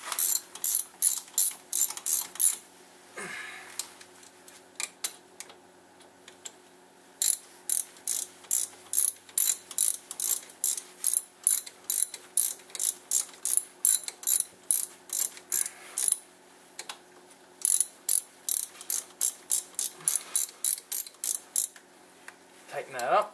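A ratchet tightens the brake caliper bolts on a 2001 Dodge Grand Caravan during a front pad and rotor job, giving long runs of rapid, close, crisp clicks in bursts with short pauses between strokes.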